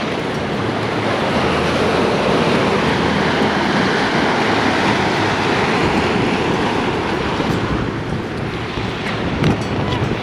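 Ocean waves break and wash along the shore at Porth Trecastell (Cable Bay) in a dense, continuous roar, heavily mixed with gusting wind buffeting the microphone.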